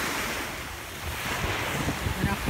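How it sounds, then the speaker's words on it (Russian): Rough sea surf off Corfu churns steadily with wind buffeting the microphone, a continuous wash of breaking waves and no voices. "Море такое немножко неспокойное"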